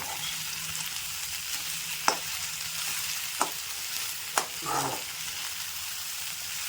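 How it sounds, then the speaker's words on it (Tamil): Banana flower sautéing and stirred in a pan for a banana flower egg stir-fry, with a steady low sizzle broken by a few sharp scrapes and clinks of the spoon against the pan. "வாழைப்பூ போட்டாச்சு. நல்லா வதக்கிடுங்க."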